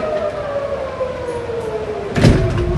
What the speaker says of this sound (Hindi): यहाँ पे सायरन हर तरफ से बज रही है